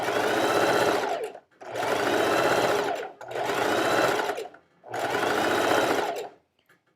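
A sewing machine runs in four sustained stitching bursts on a top, each a few seconds long with short pauses between, loud and close with no speech.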